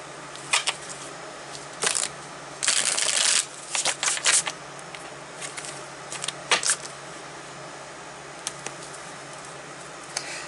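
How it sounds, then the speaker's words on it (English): A tarot deck is shuffled by hand, producing irregular bursts of crisp card riffles and flicks, one longer flurry among shorter taps, over a faint steady background hiss. "I'm going to keep pulling from this deck because I want to."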